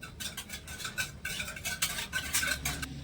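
Milk with cardamom being stirred in a pan as it heats, with quick, rhythmic metal spoon scrapes and light clinks against the pan over a low background rumble.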